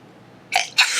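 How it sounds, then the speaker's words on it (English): One close, loud sneeze with a short sharp intake followed by a forceful burst, alone in a quiet room. "I'm about to sneeze."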